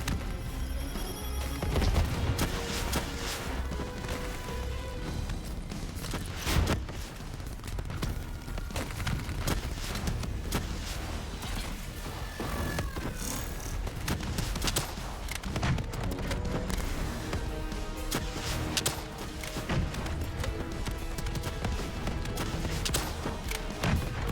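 Continuous gunfire in the Call of Duty Black Ops 3 campaign, a dense loud barrage of shots and impacts layered over game music and effects throughout, with no gaps of quiet.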